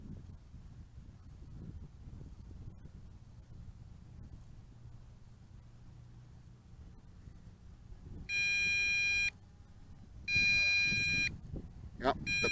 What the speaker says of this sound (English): the battery indicator is beeping now. We are in low voltage, so time to land.